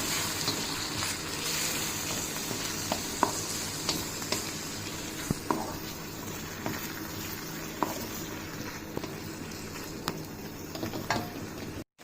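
Chicken hakka noodles tossed with sauce in a hot wok give a steady, close sizzle with light scraping and clatter from stirring, running continuously without talk.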